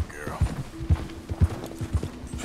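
Horse hooves clip-clop at a steady walking rhythm in the Red Dead Redemption 2 video game, evenly spaced dull thuds moving along under a faint background hum.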